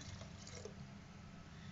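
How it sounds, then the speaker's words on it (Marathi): Water left over from boiling baati for dal bati being poured into cooked dal, a steady close liquid pour and splash with no speech. "आपण हे बाटी उकळलेलं पाणी आहे हे पण पाणी आपण आता त्याच्यामध्ये टाकणार आहोत डाळीमध्ये आपल्या."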